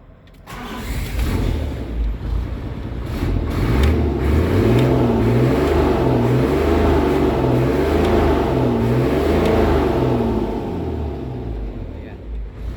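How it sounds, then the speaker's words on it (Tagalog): An Isuzu Forward truck engine with an open muffler revs loudly and repeatedly, the roar rising and falling in rhythmic surges that build from a start into sustained, close, throaty acceleration. "Naka-open muffler po siya. Medyo maingay kasi naka-open muffler po."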